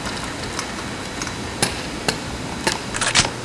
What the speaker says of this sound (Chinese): 放松左右避震器底部螺栓，取下左右避震器。